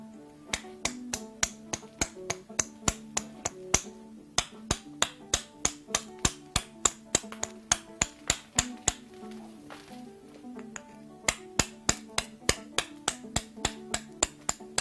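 Sharp, bright clicks of flintknapping as the edge of a glass arrowhead is trimmed, a steady series of close, crisp taps repeated rhythmically with brief pauses between runs.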